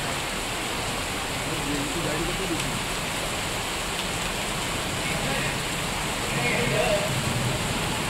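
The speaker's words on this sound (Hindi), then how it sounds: "शामगढ़ इलाके में जमकर बारिश हुई।" Heavy rain falling over the Shamgarh area of Mandsaur district, heard as a dense, steady hiss of downpour that continues evenly throughout and swells slightly near the end.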